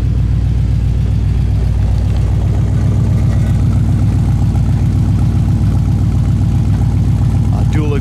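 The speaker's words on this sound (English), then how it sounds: "Dual exhaust sounds good." A 1955 Chevy Bel Air idles through dual exhaust with a deep, steady, pulsing rumble, loud and close, holding even throughout.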